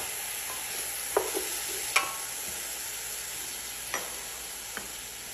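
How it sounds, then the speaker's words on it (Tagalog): Tomato being stirred into chicken frying in a pan for chicken kabsa: a steady low sizzle with a few light spoon scrapes and taps standing out, alone and fairly quiet. "At ngayon, i-add ko na itong tomato. Mix ko lang siya ng konti."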